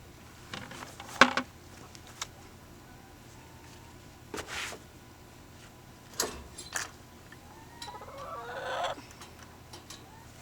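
Backyard hens roam outside their run and coop, giving a few scattered soft clucks and squawks spaced over a quiet, faintly hissing outdoor background.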